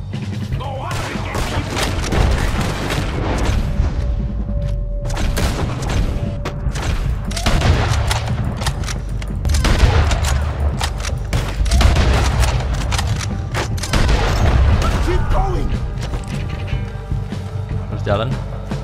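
Gunfire in Red Dead Redemption 2, a dense, continuous fusillade of shots and booms running the full length, loud and close, with voices talking over parts of the action.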